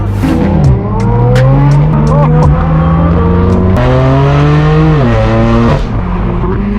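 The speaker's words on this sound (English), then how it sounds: "Oh my, listen to the AMG" A loud, high-revving Mercedes-AMG car engine roars up close at a supercar meet, its pitch climbing and dropping through gear changes, with brief tire squeal.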